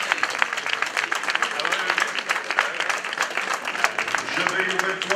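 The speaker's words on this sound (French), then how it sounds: "Vous avez raison de l'applaudir" A crowd at the Essor Breton 2013 cycling race podium applauds, a dense patter of clapping holding steady throughout.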